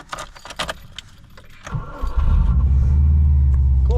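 A Subaru Impreza engine catches on the first try after a few jangling keys and clicks, then settles into a loud, steady, rumbling idle close by, with no talking.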